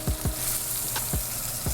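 Meat shanks brown in a frying pan with a steady close sizzle, a few low thumps and scrapes scattered through it.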